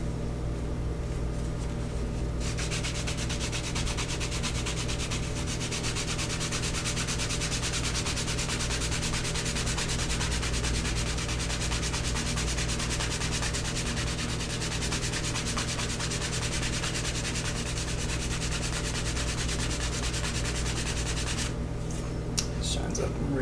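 Canvas is rubbed hard along the edge of leather on an iPhone 6 sleeve to burnish it, making a steady close scrubbing rasp that runs almost without a break, with a quiet start and end.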